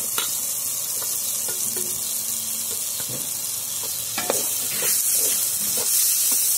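Boiled potatoes tumble into a sizzling spiced mixture in a pan for samosa filling and get stirred, a steady frying hiss with scraping knocks and stirring scuffs, close up and with no talking.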